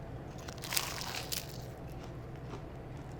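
Crunchy bites into a freshly baked croissant made with levain, a few crisp crackling crunches close up with soft chewing between, no talking.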